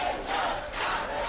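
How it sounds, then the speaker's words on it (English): A crowd gathered at Tehran airport in Iran's capital cheers and chants together, a dense, continuous roar of many voices close by that swells in two waves over just over a second. "A cheering crowd at this airport in Iran's capital early Wednesday."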